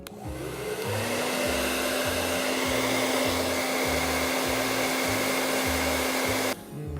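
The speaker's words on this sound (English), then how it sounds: "Get our hair dryer. We're gonna turn it on high heat." A hair dryer on high heat blows loud and steady at close range, a constant whooshing roar with a motor hum, cutting off just before the end.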